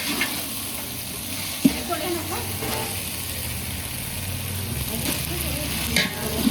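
Coriander and peas fry in a pan with a steady close sizzle while being stirred, the occasional scrape and tap of a spoon against the pan.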